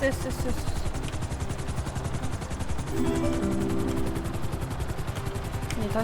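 A helicopter in the video game GTA 5 throbs with fast, steady rotor beats throughout, loud and close, while players talk over it.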